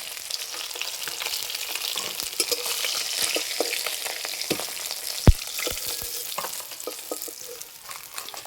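Katla fish pieces frying in hot oil, a continuous crackling sizzle with scattered sharp pops and an occasional clink of a utensil, close and steady.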